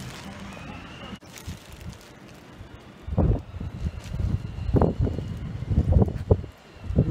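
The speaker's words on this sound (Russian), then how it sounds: "Но ветер такой, что, наверное, придется музыкой заглушать. Порывы страшные." Strong, gusty wind buffets the microphone outdoors near modern buildings, rumbling low and surging in uneven bursts that grow rougher and louder in the second half.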